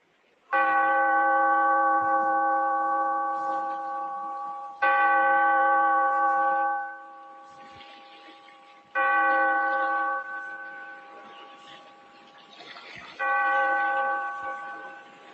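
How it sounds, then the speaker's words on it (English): A church bell tolls four times in a spooky radio drama opening, each loud harmonic strike ringing out and slowly decaying before the next, with no talk over it. "Bellkeeper, toll the bell, so that all may know we are gathered again in the weird"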